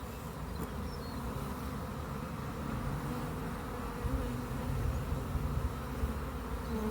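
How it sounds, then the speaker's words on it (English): A dense, steady drone of many bees buzzing close by as they are shaken off a hive frame, continuous and fairly loud throughout with no voices. "I'm gonna just give the bees a shake off"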